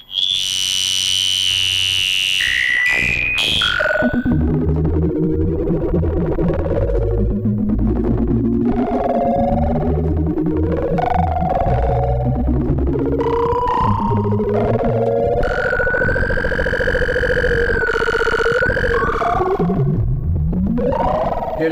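Waldorf Blofeld synth running a Liquid Metal patch, its filter swept and tuned so a loud, bright tone bends, warbles and glides in pitch, sounding metallic and vocal-like, continuous for over twenty seconds with no talking.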